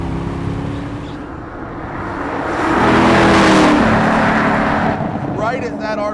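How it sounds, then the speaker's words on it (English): Sports car with a two-mode exhaust is downshifted and revved out until its baffles open, the engine swelling into a loud, rising roar mid-clip before easing off, with someone talking over it. "the baffles go wide open and just make a phenomenal sound"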